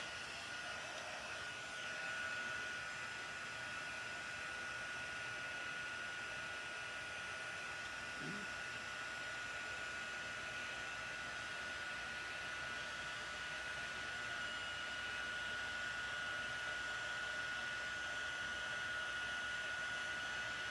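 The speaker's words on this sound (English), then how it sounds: "Okay, heat emboss." A heat embossing tool blows hot air in a steady, constant whoosh with a fine whine, close and unbroken throughout, used on a handmade card, with no talking.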